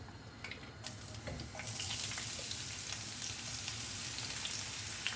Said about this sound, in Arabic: سخنت الزيت والحين راح احط البصل